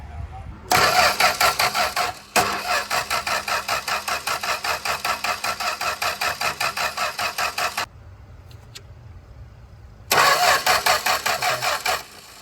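A Plymouth Barracuda engine, parked for 30 years and now fed fresh gas, cranks over in rapid rhythmic bursts from the starter, three separate long cranking attempts with short pauses between them, loud and close.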